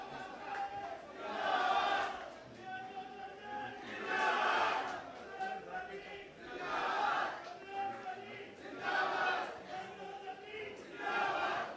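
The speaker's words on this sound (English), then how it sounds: "Can we all once again give a huge round of applause?" A large crowd at an outdoor public political rally in St. Cruz, Goa, cheers and shouts in repeated swelling waves, rising and falling every couple of seconds, heard from a distance.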